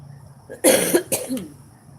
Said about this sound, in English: I've had this cough for about a month